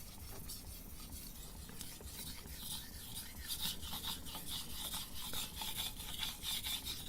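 A chef knife drawn back and forth on a whetstone, a steady close rasping and rubbing with faint rhythmic strokes running continuously and unaccompanied by speech.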